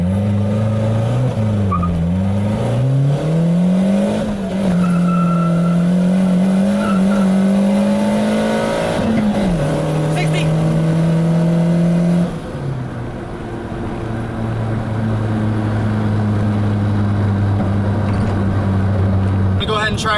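A car with a GA16DET engine and a strained-sounding transmission accelerates hard from a standstill, its engine note climbing loudly through several gear changes while a person talks over the roar.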